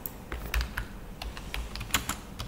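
Fingers type a company registration number on a computer keyboard, a close, quiet patter of irregular key taps over a faint low hum.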